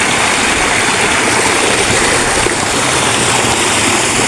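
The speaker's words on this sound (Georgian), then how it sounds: "ეს ნაკადულის ხმა ხომ ჩემთვის არის საოცრება." Forest stream rushing steadily, a loud, close, unbroken watery roar with no voices.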